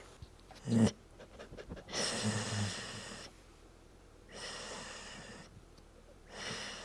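A small dog dozing indoors, breathing in slow rhythmic bursts with soft snorting, snore-like exhales at close range, alternating with quiet pauses.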